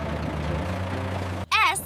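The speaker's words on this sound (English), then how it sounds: "R is for roller." A road roller at a construction site idles with a steady low engine rumble for most of the moment, then cuts off abruptly before a brief, louder burst of a different sound at the end.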